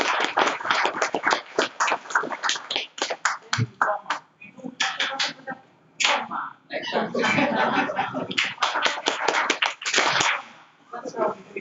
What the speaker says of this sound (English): Let's clap for the Dean again.